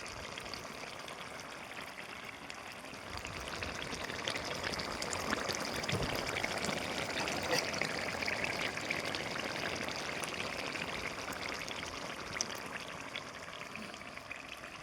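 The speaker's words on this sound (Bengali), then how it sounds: "এবার আমি একটু ঘি দিয়ে লাবিয়ে নেব।" Ghee poured over Bengali-style chicken kosha gives a steady, soft liquid pour and sizzle that runs continuously for about fifteen seconds, close and fairly quiet, with no talking.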